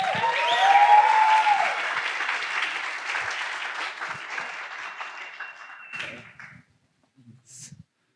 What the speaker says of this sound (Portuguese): Por favor, receba com uma salva de palmas o Dr.